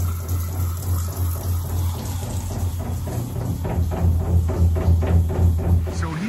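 The outdoor coil unit of an air conditioner runs with a steady low droning hum under a constant rushing, whooshing fan noise. It is loud and unbroken, with no voices.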